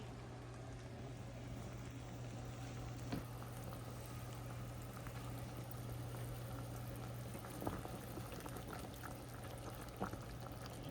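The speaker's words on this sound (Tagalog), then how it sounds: "Yan, kumulo na." Tinolang pompano, a Filipino fish soup with vegetables, boiling in a pot: a faint, steady bubbling simmer with occasional louder pops, alone under a low constant hum.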